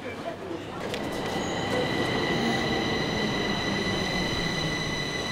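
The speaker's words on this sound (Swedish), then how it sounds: "Idag är nämligen den sista dagen som de här gamla tågen, de kallas för CX-vagnarna." Old C14 metro cars on the Stockholm red line run along the track, with steady rumbling, faint clatter and a high, sustained wheel squeal throughout, heard close from inside the train.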